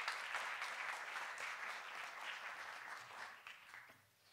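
Steady audience applause from a crowd at a science-communication competition semi-final, filling the room at moderate distance and fading toward the end.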